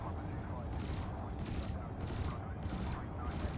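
Ship weapons firing in the space game Elite Dangerous: Odyssey: four evenly spaced bursts of gunfire ring out over a steady low engine rumble, loud and close.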